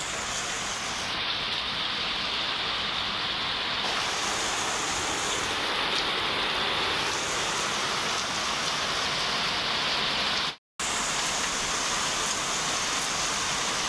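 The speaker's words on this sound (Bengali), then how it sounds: "বৃষ্টি পড়তাছে।" Steady heavy rain pours down at night at two o'clock, a dense continuous hiss with no talk, briefly cut to silence for a moment before resuming.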